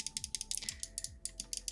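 Side buttons on an OP1 8K gaming mouse being clicked over and over in a quick, even rhythm. Each press is a sharp, close click, heard alone over a faint hum.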